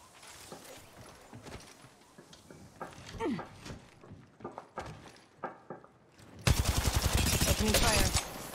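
Rapid gunfire from the Apex Legends Mobile video game comes as a loud, tightly spaced burst of shots near the end, after scattered quieter game sounds and footsteps, with voice lines in the mix.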